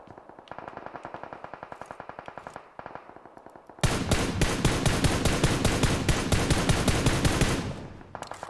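Rapid automatic gunfire from a weapon in the mobile battle-royale game PUBG Mobile, loud and close, with dense bursts of shots that intensify into a sustained volley before trailing off.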